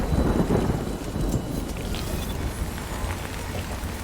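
Heavy rain and rumbling thunder in the video game Death Stranding, a dense continuous downpour with a deep roll of thunder at the start, loud and close throughout.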